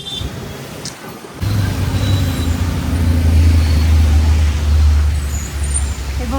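A car pulls away and drives along a road, with a steady low engine drone and rumbling road noise that swells after a brief pause, close and fairly loud inside the vehicle.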